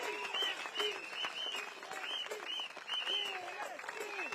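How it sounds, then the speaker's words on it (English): A crowd at a Singapore election rally claps in sustained, dense applause, with voices and cheers mixed into the steady patter of hands over a few seconds. "Can we have one more round of applause for Bock, as well as our candidates standing"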